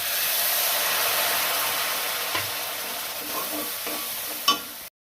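Vinegar is poured into a hot lemon pickle mixture, giving a steady, loud sizzle and hiss that slowly fades. Faint stirring clinks come through, with a sharper knock just before it stops abruptly.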